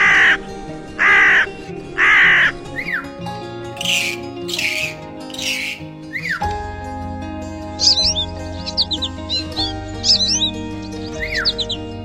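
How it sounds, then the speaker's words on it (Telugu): Crows caw loudly in a bedtime story, first three harsh caws in a row, then rapid bursts and scattered chirping calls over a steady background. "తర్వాత కాకి,"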